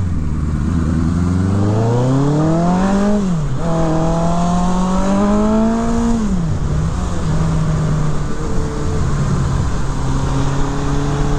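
A 1980 Suzuki GS1100 motorcycle engine revs up in rising and falling sweeps, climbing twice to high pitch before settling into a steady, loud idle-to-cruise drone, heard up close with wind noise and no talking.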